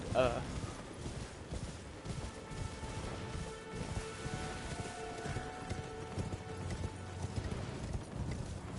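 Horse hooves clip-clopping at a steady trot while riding in a video game, a rhythmic patter running throughout, with someone talking over it and faint music.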